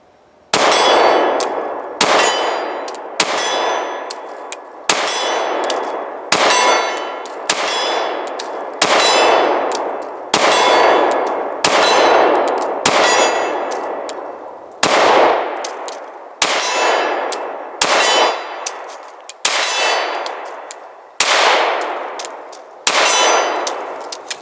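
CZ P10c pistol rounds strike a steel silhouette target at 30 yards. About fifteen loud, bright metallic clangs ring out at a steady pace, each with a ringing decay that fades before the next hit.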